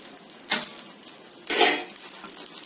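Pesarattu, a mung bean dosa, fries in oil on a pan with a soft sizzle, broken by two louder bursts of scraping and crackling as oil is added, close by and without speech.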